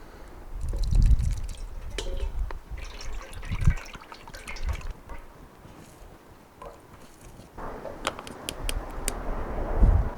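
Fermented banana peel liquid being poured through a sieve, with close splashing, trickling and dripping that swells and eases in uneven bursts, ending with a few sharp drips and a last splash.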